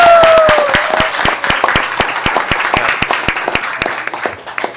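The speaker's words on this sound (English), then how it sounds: "Round of applause for them." Loud, close applause from a room full of people at a commission meeting, honoring a 12-and-under team's league win, with steady dense clapping that slowly fades toward the end.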